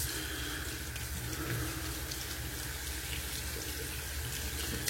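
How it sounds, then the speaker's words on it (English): Cold water runs steadily from a tap for rinsing after a shave, a continuous close hiss and splash with no voices. "Cold water rinse."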